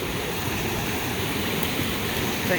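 Irrigation water rushes down a ditch on a high desert property, a steady close broadband wash of flowing water with no voices.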